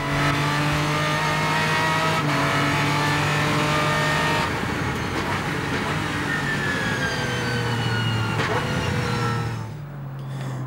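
An Aston Martin DBRS9 GT3 race car laps the Magny-Cours circuit, its engine roaring loudly from inside the cabin, rising through the revs with abrupt gear changes before the note drops away at the end.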